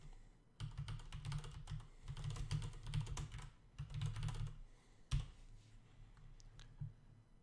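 Close, quiet typing on a computer keyboard, rapid clicking keystrokes in several bursts separated by short pauses, ending with a few isolated key taps.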